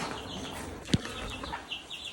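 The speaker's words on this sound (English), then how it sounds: "The 2 roosters were a gift, right?" A rooster gives a short, sharp call at a middling distance outdoors, one of two roosters kept as a gift, with soft ambient noise around it.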